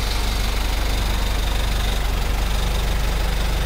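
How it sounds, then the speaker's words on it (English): A 1977 Toyota Land Cruiser BJ40 diesel engine idles with a loud, steady, close-up clatter and dense rumble, with no voices. "So you can hear that this car sounds like a jeepney, but in a good way."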